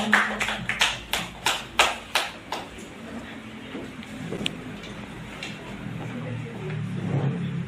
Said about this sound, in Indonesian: Beri tepuk tangan biar semangat.